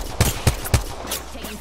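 Gunfire in the video game Apex Legends from a G7 Scout rifle: three sharp, loud shots at an even pace, then a few fainter, more distant shots trailing off.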